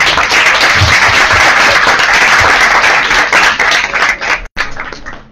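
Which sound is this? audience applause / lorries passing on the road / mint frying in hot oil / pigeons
audience applause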